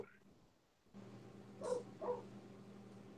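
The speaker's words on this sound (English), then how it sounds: "I hear the doggy barking, or a doggy barking" A small dog barks outside, two short yips heard faintly at a distance over a low steady background hum.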